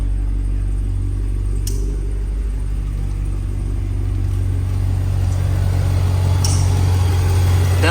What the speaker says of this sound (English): it's probably one of the best sounding stock vehicles there is